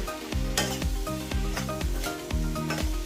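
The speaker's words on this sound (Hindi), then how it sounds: "कढ़ाई मेरी हाई पे है, हाई फ्लेम पे पक रहा है ये" Vegetables cooking in a kadai over a high flame, a dense continuous sizzle broken by rhythmic scraping strokes of a stirring spoon, close and fairly loud.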